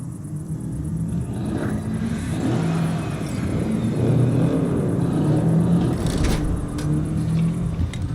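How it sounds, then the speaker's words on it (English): A convoy of car engines in the Cyberpunk 2077 desert rumbles and revs, a loud, continuous mid-range roar that swells and builds steadily. "Start your engines, folks."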